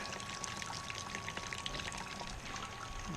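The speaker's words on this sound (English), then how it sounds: "we're going to start our sparge water" Sparge water pours steadily into a grain mash during all-grain beer brewing, a continuous splashing trickle with a faint hum running beneath it, close by and without talk.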